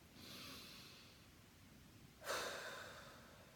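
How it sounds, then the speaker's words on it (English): A single deep breath taken during a calm mindfulness moment, a soft steady exhale early on followed by a fuller, louder breathy inhale or sigh rising near the end, close and quiet with no talking. "stop and take a deep breath"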